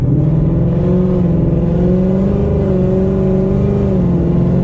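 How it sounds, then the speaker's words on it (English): A Ford Mustang with a 10-speed transmission revs hard and climbs steadily in pitch, loud and close, dipping briefly as it shifts through gears without pause. "this 10-speed Mustang, holy crap, it's like shift, shift, shift"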